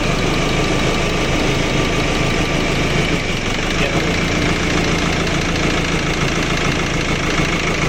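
Nissan Navara engine running steadily while the EGR valve is handled, a loud, close, continuous idle with a knocking rumble and slight shifts in its running throughout, with no voices.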